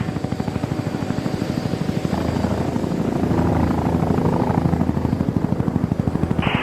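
A rescue helicopter flying in to land, its rotor thumping in a steady, loud, close rhythm throughout, the chopping pulse briefly smoothing into a dense roar midway before the beat returns.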